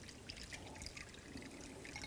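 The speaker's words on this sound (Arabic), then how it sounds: "تحت الميه عادي من الحنفيه يعني ميه عاديه خالص" Jewelry being rinsed under ordinary running tap water, a steady soft trickle and drip of water running continuously throughout at low volume with no talking.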